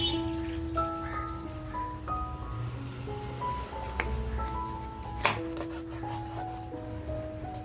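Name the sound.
sharpened knife cutting rawas fish into pieces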